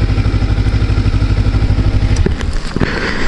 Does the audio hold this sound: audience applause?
no